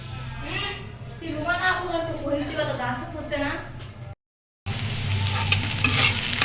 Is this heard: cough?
no